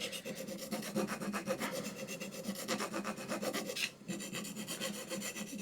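A hand plane blade is rubbed back and forth on an abrasive sharpening stone, making a quick, regular rasping scrape that pauses briefly before resuming, close and clear with no voices.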